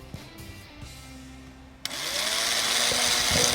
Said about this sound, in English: take a 3/8 inch drill and drill a hole through